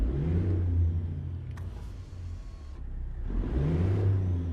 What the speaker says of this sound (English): this is a fucking loud truck